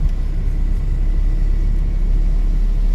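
A car engine revs during a driving lesson, a loud, close, steady low rumble holding its pitch from start to finish with no voices over it.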